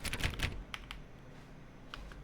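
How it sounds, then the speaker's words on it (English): Computer keyboard typing from The Stanley Parable, heard as quick clustered clicks in two short bursts, close and clear, with no talking over it. "Why is there keyboard noises on the lockers?"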